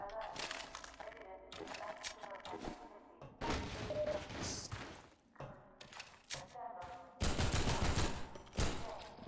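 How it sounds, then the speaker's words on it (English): Pistol shots fired at a barnacle in Half-Life 2 MMod, several sharp game gunshots among dense game effects and background sound. "7 shots for a barnacle."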